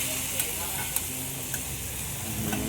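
Pad thai noodles fry in a pan at a Thai market stall, with a constant loud sizzle and hiss and occasional clinks of a utensil stirring.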